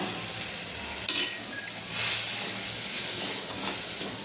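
Steady hissing sizzle and bubbling from patwadi filling cooking on low gas in a pot, with a few louder steam bursts and occasional stirring.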